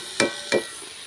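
Young jackfruit tossed with fried spices in a pan on a small stove sizzles quietly beneath two crisp scraping strokes of a spoon, close and isolated.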